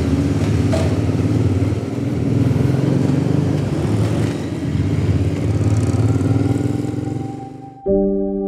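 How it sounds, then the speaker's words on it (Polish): Several motorcycles idle and rumble steadily up close while boarding a ferry on a long Norwegian coastal road crossing, engine drone continuous with slight surges, then cutting off abruptly near the end. "I motocykliści pierwsi oczywiście."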